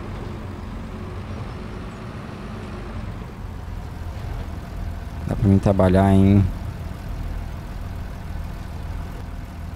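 A New Holland TM 150 tractor engine in Farming Simulator 22 drones steadily at a low idle-like hum, with a brief rising harmonic whine midway; someone speaks over it.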